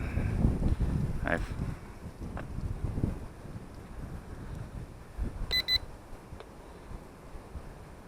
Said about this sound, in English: I got 2 beeps,